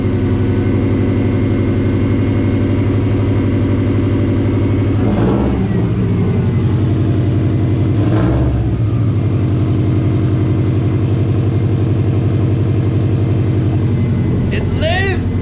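A custom car nicknamed the Golden Toaster cranks and starts, then settles into a loud, close, steady engine drone with a couple of brief rev surges midway, running with the battery on charge and a very loud exhaust.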